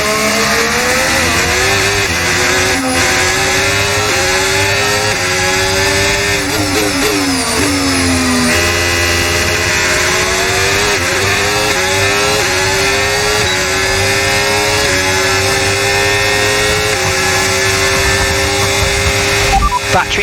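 Formula 1 race car engine in F1 25 on the Netherlands circuit run in reverse, a loud high-pitched whine that rises and falls through gear shifts and then climbs steadily as the car accelerates back up to racing speed.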